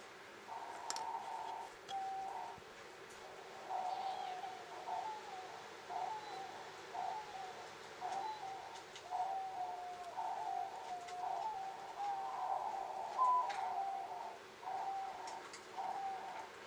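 Pet birds cooing indoors, a soft, repeated coo pattern in steady rhythmic bursts throughout, fairly faint and close, with occasional light clicks and no talking.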